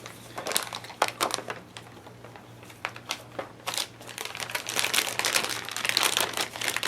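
A plastic fish bag crinkles and crackles up close as it is slipped into a second bag, in uneven bursts that grow busier toward the end.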